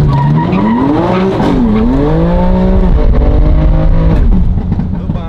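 A BMW M3 Competition drifts with its engine loud and close, revs sweeping up and down in long gliding pitch bends over a constant roar and tire noise.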